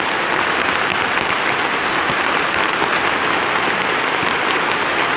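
Heavy, storm-like rain pours in a dense, unbroken hiss, drumming steadily on a surface close by.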